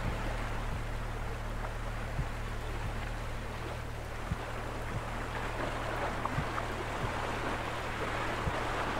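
Steady broadband rush of water falling and flowing from a waterfall, continuous and even throughout with a few faint low knocks, no voices.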